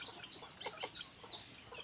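A chicken clucks softly at a camp cooking spot, several short, quick clucks in a loose run, faint and fairly close, with no talk over them.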